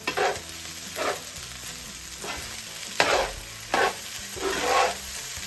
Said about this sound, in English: Now I'm gonna add some white pepper, a little bit of sugar, stir that in.